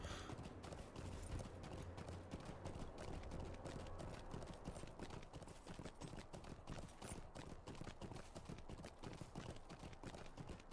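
Rapid horse hoofbeats clip-clop steadily in Lord of the Rings Online, a quick continuous rhythm of hoof strikes at moderate volume.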